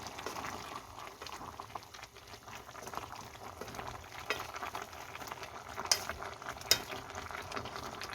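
Korean chicken stew, dakdoritang, bubbles quietly in a pot while a spoon stirs it, giving soft continuous simmering with scattered scrapes and two sharper clinks late on.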